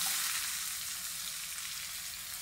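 Chopped onion, added after cumin seeds and curry leaves, sizzles steadily in hot oil for a Maharashtrian capsicum dry vegetable dish, a continuous bright frying hiss with no talk.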